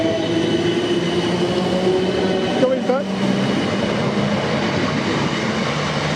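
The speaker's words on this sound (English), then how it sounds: "there goes my train, that's just departing" A South Western Railway train pulls out of a station with a steady low rumble and a humming drone, a brief clunk midway, and the sound holding level throughout.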